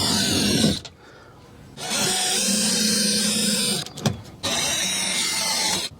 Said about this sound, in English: So I'm going to drill through those as well.